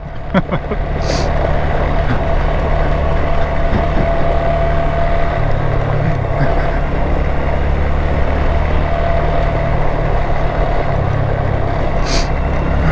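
Honda Grom motorcycle riding on an unpaved dirt road, a continuous close engine drone with steady rumble and wind, plus occasional clicks and knocks from the rough surface.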